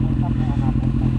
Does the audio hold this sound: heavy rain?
no